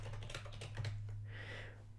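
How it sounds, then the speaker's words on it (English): Rapid clicking of a computer keyboard as a name is typed into a customer field while setting up a Wix price quote, with steady close keystrokes and a low hum underneath. "I'm going to go ahead and type my own name in here."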